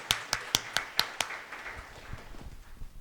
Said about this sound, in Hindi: प्रभु के लिए तालियां बजा सकते हम?